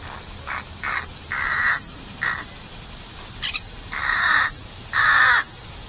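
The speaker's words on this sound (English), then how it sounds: "The crow on the right, the one that has been doing all the cooing," A juvenile crow at a home-made puzzle feeder gives a series of short cawing calls and softer coos, close and clear, in irregular bursts with gaps between them.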